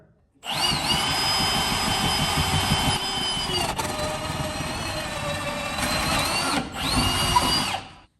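A power drill whines loudly in sustained bursts, with a brief pause near the middle and another short stop before a final burst.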